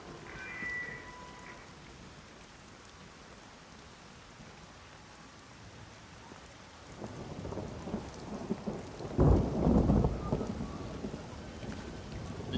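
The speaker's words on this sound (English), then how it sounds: "The transition to the thunderstorm does a great job for the atmosphere." A thunderstorm with steady rain in Everybody's Gone to the Rapture: a soft hiss of rainfall builds toward a deep rolling thunderclap near the end, with no voices.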